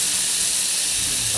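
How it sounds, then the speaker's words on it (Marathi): Chivni fish coated in crushed chilli and garlic sizzle loudly in hot oil on a pan. The hiss is steady, close and bright, with no voice over it. "चिवणा या ताव्यावर ठेवला जातोय, एकदम कुरकुरीत क्रिस्पी साऊंड"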